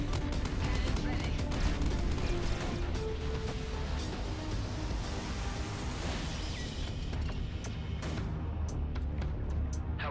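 Spaceship cannons fire in the video game Everspace 2 as a dense barrage of rapid sharp blasts and booming impacts under a layer of game music and effects, with a voice speaking over part of it.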